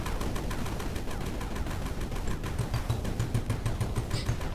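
Rapid automatic gunfire in the mining game Sandustry, a steady stream of evenly spaced shots firing continuously at a fast rhythm without pause.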